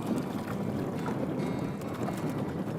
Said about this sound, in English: Nice windy day in Montana.